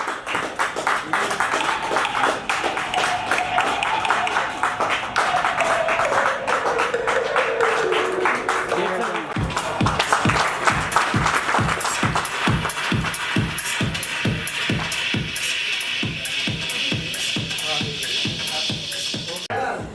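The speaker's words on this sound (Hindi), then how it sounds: "एक बार जोरदार तालियां हमारी।" Loud applause at a company Diwali celebration at a resort, dense clapping that gives way to slower, more distinct rhythmic claps, with crowd voices underneath.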